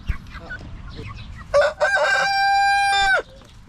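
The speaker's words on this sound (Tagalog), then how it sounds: "Grabe namang manok yan" A rooster in a backyard flock crows one long, loud, sustained call up close, with softer chicken clucks and scattered background noise before it.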